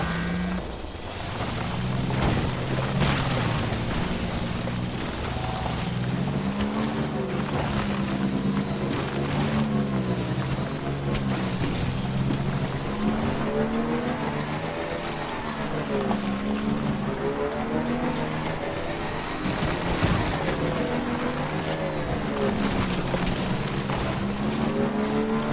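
A motorbike ridden in the video game Death Stranding, its steady engine drone holding close and continuous throughout with shifting pitch as it travels, no talk over it.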